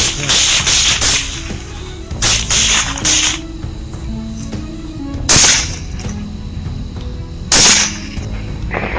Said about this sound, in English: Gunshots roared through the silence of the night, shattering the stillness.